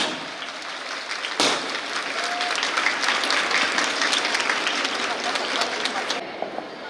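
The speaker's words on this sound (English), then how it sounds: "Children, kindly give him a loud applause." Audience applause at a school sports meet opening, a sudden burst of many hands clapping that continues densely, with some voices in the crowd, before ending abruptly.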